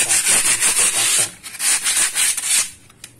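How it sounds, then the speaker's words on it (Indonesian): A moldy masonry wall being rubbed with number 100 sandpaper: loud, rhythmic scraping strokes repeating close by, with a brief pause partway through and no voices. "digosok ya menggunakan amplas nomor 100"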